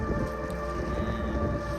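Strong wind and heavy rain on Girnar mountain make a dense, steady roar that fills the whole moment, loud and close with no break and no voices.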